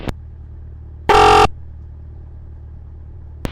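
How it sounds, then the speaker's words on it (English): A radio transmission comes through a small aircraft's radio as a single short, harsh electronic beep, cutting through low background hum, with faint clicks before and after. "it just sounded like almost like a computer sound, like a beep"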